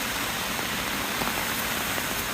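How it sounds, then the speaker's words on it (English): Heavy rain pours steadily during a thunderstorm near Tokyo, a dense continuous hiss close by with no break and no voices. "it's raining like this"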